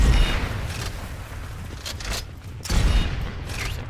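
A TR MAX secondary weapon in a video game fires from the hip in short bursts, with sharp, loud reports and brief gaps between volleys, close up and with no talk over it.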